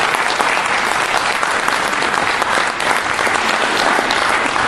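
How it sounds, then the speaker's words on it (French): An audience at a political campaign meeting in Vichy claps steadily, a loud, dense and continuous wash of applause with no talking over it. "D'abord oui, applaudissez-la."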